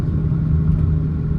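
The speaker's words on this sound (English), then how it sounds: "Now we're gonna shift down" A Ford Mustang's engine rumbles low and steady from inside the car during a paddle-shift downshift, a brief continuous drone with no distinct rev spike and no talk.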